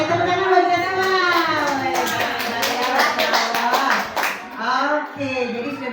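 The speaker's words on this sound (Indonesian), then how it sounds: "Oke, tepuk tangan buat kita semua." A group of people clapping hands together in a classroom or training session, steady overlapping claps mixed with voices talking throughout.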